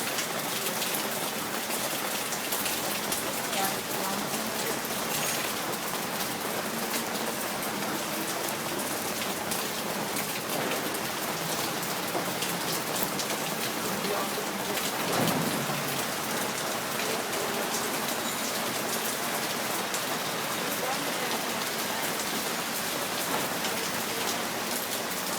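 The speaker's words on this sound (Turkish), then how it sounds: "Sesini çekiyorum yağmurun." Steady summer rain pours over Istanbul, a dense, even hiss of drops hitting surfaces that holds for the whole stretch, with no voices.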